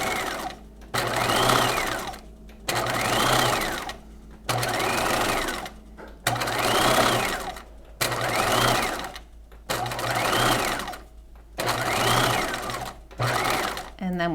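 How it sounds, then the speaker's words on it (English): A sewing machine stitches clear elastic onto fabric, stretching it as it sews, in seven steady whirring runs of rapid needle strokes with brief pauses between, close and clear with no talk over it. "Really pulling on this clear elastic, stretching it as I sew."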